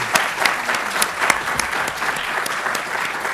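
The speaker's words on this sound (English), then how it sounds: "a round of applause for our wonderful panel" Audience applause for a journalism panel at the University of Westminster, a large crowd clapping steadily and loudly throughout, a dense, even wash of claps with a few sharper individual hits standing out.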